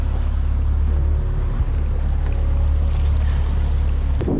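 A private speedboat runs across the water in the Maldives, its engine a loud, steady low drone with a faint whine, ending in a brief splash or bump.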